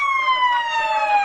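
Fire truck siren at a blaze that swept through establishments in Agusan del Sur, a loud sustained wailing tone sliding slowly downward, heard close and clear with no talk over it.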